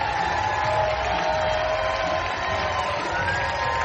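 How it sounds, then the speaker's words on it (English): Minor-league baseball stadium crowd roaring after a home run, Knoxville Smokies at Rocket City Trash Pandas, a dense continuous cheer with whoops, loud and sustained throughout. "And listen to this crowd."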